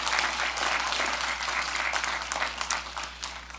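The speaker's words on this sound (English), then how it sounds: "You can give yourselves a round of applause." Graduating class and crowd applauding at a college undergraduate commencement ceremony, a dense, lively clapping wash over a low steady hum, strong at first and tapering slightly near the end.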